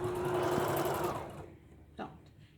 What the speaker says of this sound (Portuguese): Vou costurar até aqui.